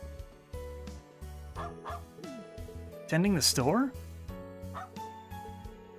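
A dog in Trails of Cold Steel 3 gives several yipping barks and a whimpering yelp, alongside game music, with a short line of speech near the start.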